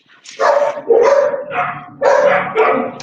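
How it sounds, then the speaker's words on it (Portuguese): A small dog barks in several sharp, loud bursts close by, a quick run of yapping barks with brief pauses between them. "Tem um cachorrinho."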